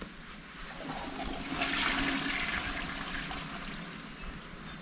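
Water rushes and gurgles from an overflowing toilet in the video game Baby In Yellow, a steady flushing surge that swells in the middle and then settles to a running trickle, with no talk.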